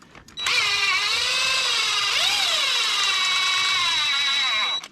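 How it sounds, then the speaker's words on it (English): An impact wrench spins a strut mount nut during a DIY strut replacement, one continuous loud, close high-pitched whine with a short dip in pitch partway through before stopping. "I'll go ahead and use my impact on this just to speed up the process."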